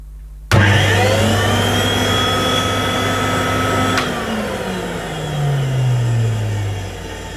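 A retro 1980s Hoover Sensotronic System 2 upright vacuum cleaner switches on with a sudden whirring whine, runs steadily with a brief click midway, then winds down with a falling hum.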